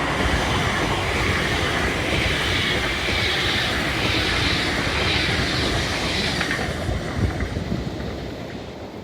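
A train rumbles steadily past close by, wheels clattering and a faint squeal riding above the heavy, continuous roar.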